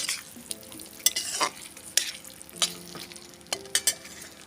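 Potatoes, already fried and added to a pan with mustard seeds and turmeric, are stirred over a gas flame, giving quiet intermittent scraping and clinking strokes over a soft low sizzle.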